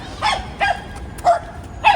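A dog barks four times in short, sharp, evenly spaced yips, fairly close and clear against quiet city background, with no talking.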